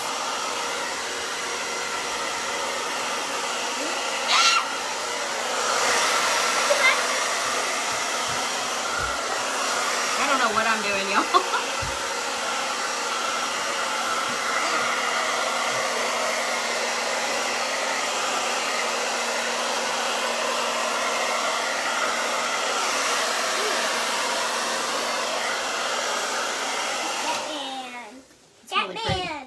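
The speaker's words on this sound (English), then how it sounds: "we're gonna use the hair dryer to spread it out" A hair dryer blows steadily and loudly throughout, spreading poured paint on a round wood door hanger, with faint voices and brief handling noises underneath, cutting off near the end.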